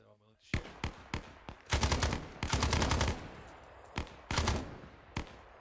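Automatic gunfire in ArmA 3 S.O.G. Prairie Fire, an M16 rattling off sharp bursts and single shots, loud and close, with pauses between volleys.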